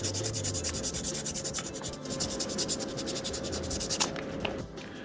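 Fine-grit sandpaper rubbing a plastic model kit part for a Mega Man X figure, a close, steady rapid scratching with rhythmic back-and-forth strokes that runs almost continuously, easing off briefly near the end.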